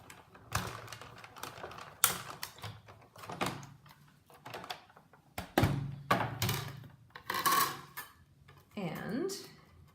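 A die cutting machine runs cardstock and framelits through on a standard cutting pad, giving close, irregular clunks, clicks and rattles across several seconds.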